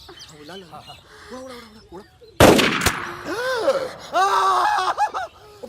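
A single sharp gunshot cracks loudly mid-scene in a Hindi-dubbed action film, surrounded by excited voices shouting and exclaiming before and after.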